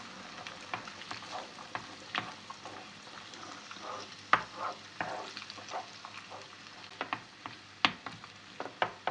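Eggs with onion, salt and pepper flakes stir-fried in a pan, a steady sizzle broken by repeated scraping clicks of a utensil against the pan, near and clear, with no talking.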